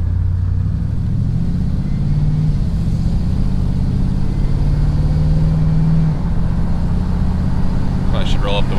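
A 1954 Chevy driving on new wheels and picking up speed, its engine a steady low drone with road rumble and a slight rise in pitch, loud and continuous throughout, with brief clinks near the end.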